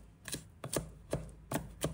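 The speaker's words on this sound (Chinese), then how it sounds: "接下来准备一把大葱，先把它拍碎， 让生pan松散碎裂， 接着反复的切" Knife chopping a bunch of green onions on a cutting board, about six quick, crisp strikes in an uneven rhythm, close and fairly quiet, with no talking.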